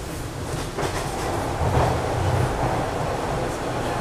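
A subway train pulls into Dundas West station on the Islington-to-Union line, its loud, steady rumble and wheel clatter filling the car with a slight swell midway and no voices heard.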